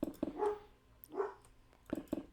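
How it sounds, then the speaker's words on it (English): A dog barks in the background, several short barks in two clusters with a longer drawn-out bark between them, fairly faint and somewhat distant. "stupid dog's barking"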